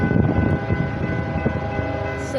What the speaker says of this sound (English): It's a BNSF freight train.